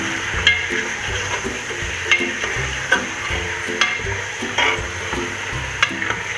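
Mutton fries in a pot for Peshawari namkeen gosht with a constant close sizzle. A spoon stirs and scrapes against the metal at irregular intervals, and no one talks.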